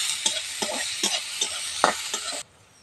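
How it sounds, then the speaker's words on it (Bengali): Onions with a pinch of salt and turmeric fry in a pan, a steady broadband sizzle broken by repeated spatula scrapes and stirs, close and fairly loud, cutting off abruptly near the end. "একটু ভাজা ভাজা করে নেব।"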